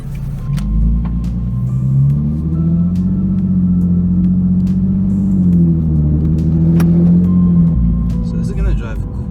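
Modified 2011 Infiniti G37xS Coupe with bolt-on mods pulling away, a loud, close exhaust drone that rises in pitch as it accelerates, holds steady, then drops back, heard from inside the car.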